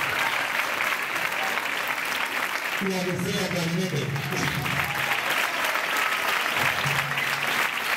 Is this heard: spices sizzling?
no